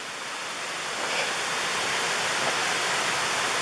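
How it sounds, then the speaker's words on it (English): Indian Creek Falls in the Great Smoky Mountains gives a steady, broadband rush of falling water, close and constant, with no voices over it. "we made it to Indian Creek Falls."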